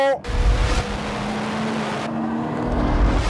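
A Nissan GT-R with four-wheel drive accelerates hard on a slippery track, its engine note rising steadily and loud from close inside the car, with a sustained tone that holds for several seconds.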